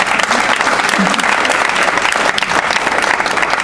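An audience applauds panelists at the close of a discussion session, a loud, dense, steady wash of clapping hands filling the space throughout.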